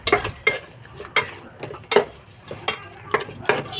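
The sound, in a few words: stirring biryani masala mixed with curd in a pot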